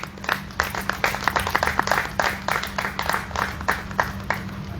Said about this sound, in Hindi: ताली बजाकर हम उत्साहवर्धन करें।